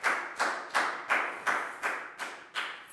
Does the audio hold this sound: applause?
yes